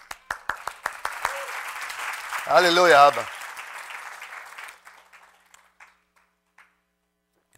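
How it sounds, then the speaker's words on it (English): A crowd breaks into applause, a burst of many hands clapping that swells loudly for a few seconds and then thins out. A voice calls out over it. "Give him a clap."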